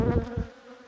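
Honey bees humming at beehive nucleus colonies, a close, steady buzzing drone that swells briefly and then holds on for about a second.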